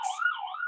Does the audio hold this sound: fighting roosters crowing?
no